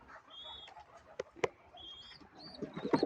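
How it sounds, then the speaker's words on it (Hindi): Wild pigeons in a crate, with soft cooing calls and a few sharper chirps over a faint background, close by and fairly quiet. "और इधर हमारे जंगली कबूतर आए हुए हैं"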